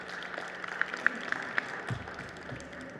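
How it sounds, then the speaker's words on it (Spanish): An audience at a book presentation applauds, with light, scattered clapping at a modest level and a few sharper claps standing out over a soft room background. "para quien pido por favor un fuerte aplauso."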